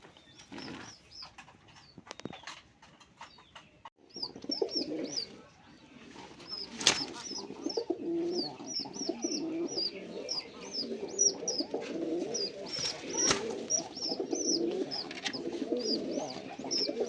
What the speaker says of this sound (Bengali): বন্ধুরা এখানে একটা রাসগোল্লা কবুতর আর একটা হচ্ছে গররা কবুতর